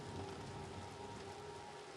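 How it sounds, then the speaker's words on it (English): Steady, dense rain hisses without a break in the Séance of Blake Manor video game, an even wash of falling water with no voices over it. "That's a very nice rain effect."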